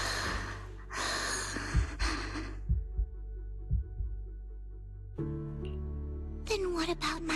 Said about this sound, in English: Then what about my racing heartbeat?